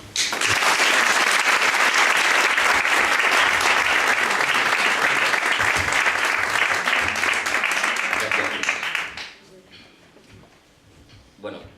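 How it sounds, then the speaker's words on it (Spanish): Loud, dense applause from an audience welcoming two speakers to a talk, sustained for about nine seconds before cutting off abruptly into faint room noise and a small sound at the end. "yo os voy a dejar con Miguel y Esteban, para los que pido un fuerte aplauso"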